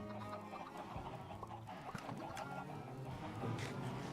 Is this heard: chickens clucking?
yes